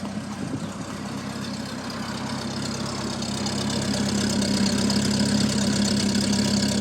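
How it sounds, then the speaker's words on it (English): A 1947 Buick Roadmaster engine idles in neutral, a smooth, steady low hum that holds even and close for several seconds, growing slightly fuller toward the end, with no talking. "I want you guys to hear how this car idles."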